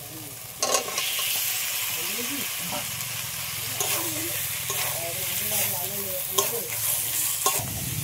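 Elephant foot yam stirred into a ginger and coriander spice paste in a hot pan, a steady sizzle with scraping stir strokes, and a few louder clatters near the start and end.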